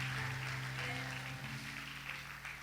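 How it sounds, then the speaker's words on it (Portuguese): A church congregation applauds during a sermon, a dense wash of clapping that carries steadily through the moment, with a low held tone beneath it. "Você pode aplaudir o Senhor mais uma vez, mais forte."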